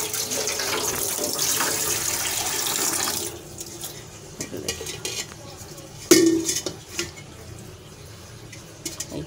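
Scrubbing a burnt black frying pan and basin under running water in a kitchen sink, with steady rushing water and scraping at first, then quieter scattered clinks and rubbing with one sharp knock.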